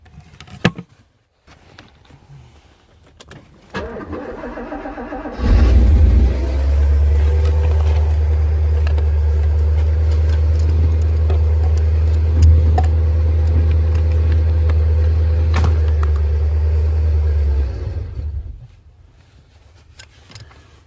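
A Porsche 928 engine runs steadily while its fuel pump relay is pulled to depressurize the fuel system, a low, even drone that holds for about twelve seconds and then cuts off, with faint handling noises before and after.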